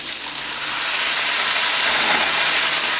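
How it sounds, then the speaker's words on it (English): Water hits a hot pan and steams with a loud, continuous hiss and sizzle that swells slightly and holds steady for a few seconds. "That helps bring up the steam and more of the heat."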